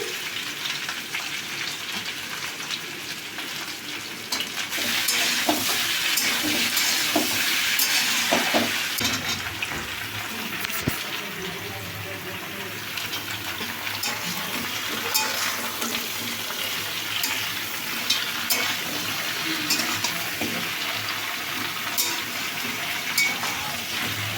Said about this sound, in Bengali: দেখুন ডাটাটাও কিন্তু ভালো করে ভাজা হয়ে গেছে এবার বাকি সবজিগুলো দিয়ে দিচ্ছি এই যে প্রথমে টমেটোটা দিচ্ছি